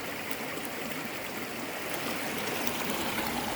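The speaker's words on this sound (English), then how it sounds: "there's like a little small waterfall down there" Small waterfall and stream on the Appalachian Trail near Springer Mountain, a steady, even rush of flowing water heard alone at a moderate distance.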